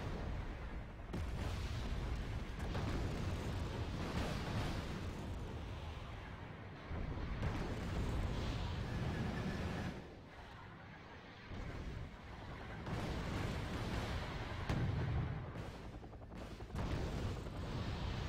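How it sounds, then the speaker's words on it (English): T-80 UM tanks firing in the Wargame Red Dragon strategy game: a continuous, dense battle din of booming cannon blasts and rumbling explosions, steady and fairly loud throughout, with brief lulls between heavier bursts. "But my T-80 UM are shooting back at him."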